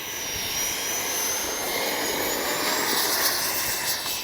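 A Freewing 80mm JL-8 RC jet taking off, its ducted fan giving a loud, steady, high-pitched whine and roar that holds strong and swells slightly as it climbs, with no talking over it.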